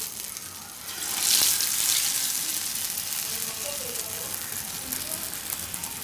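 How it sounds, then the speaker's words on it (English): Sugiyan, sweet batter-coated Diwali dumplings, dropped into hot oil: a steady bright sizzle and frying hiss that swells as they go in, then holds evenly throughout. "I'm going to dip it in oil."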